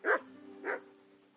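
A dog in the medieval game Kingdom Come: Deliverance gives two short, clear barks about half a second apart, close and isolated with a faint background hum.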